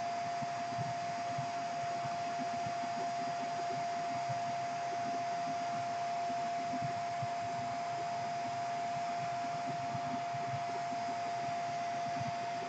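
A new vacuum tool runs with a steady, even whine and broad hiss, sucking up screws and loose debris at close range without a break.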